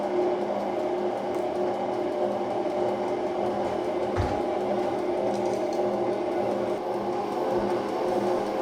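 Gelato machine blades churning a mango mixture for Italian gelato, a steady loud mechanical whir with a low motor hum running throughout, plus one brief low thump midway.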